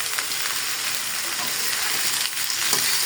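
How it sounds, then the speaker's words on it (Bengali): Bitter gourd and small potatoes fry in a pan, giving off a steady, close, loud sizzle with faint crackles and a few stirring scrapes, and no talk. "এখন আমি করলা ভাজি বসাই দিতেছি।"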